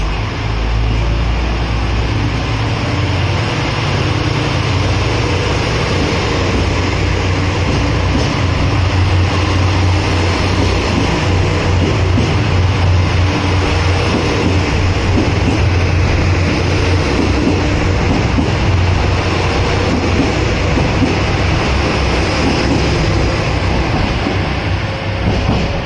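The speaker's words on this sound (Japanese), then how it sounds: "機動車の音ですからバスなんかにも似てると思います" Diesel railcar at JR Osaka Station, said to sound rather like a bus: a loud, continuous rumbling engine roar with steady low drone and rattling, sustained throughout without speech.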